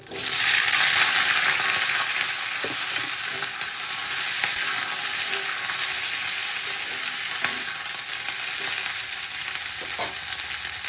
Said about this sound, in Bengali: একদম ডাইরেক্ট পেঁয়াজ কলিটা এর মধ্যে তেলের মধ্যে দিয়ে দিচ্ছি